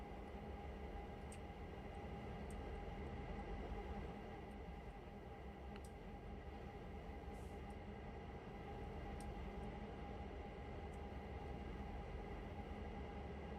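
Diesel locomotives in the train game Railroader idle with a faint, steady low rumble and hum, unbroken and far off, with a few soft clicks on top.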